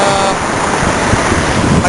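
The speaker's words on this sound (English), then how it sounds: "I thought this waterfall was neat enough worth a look at." A waterfall beside a highway in Japan makes a loud, constant hiss and roar of falling water, close to the microphone, with possible wind buffeting and traffic blended into the wash.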